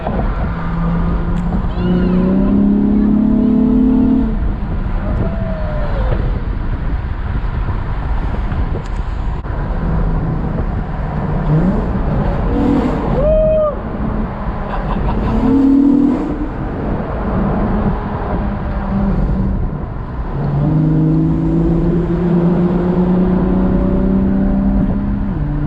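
An Acura TL SH-AWD with a crackle exhaust tune revs and accelerates through the gears, loud and close, its engine tone climbing in several pulls with shift dips and brief pops between them.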